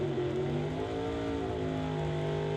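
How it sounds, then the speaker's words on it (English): A drag racing car's engine runs steadily at a fairly even pitch, with a smooth, sustained tone and no voices present. "You still hear that car running"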